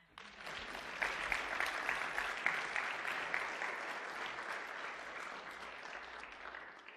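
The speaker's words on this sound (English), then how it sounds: "Give them a round of applause." An audience at a teaching session breaks into sustained applause, dense clapping rising quickly and holding steady for several seconds before easing off, heard at a moderate distance.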